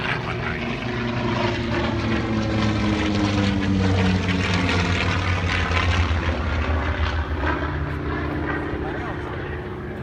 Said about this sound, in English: Let's listen to the sound of the FW-190.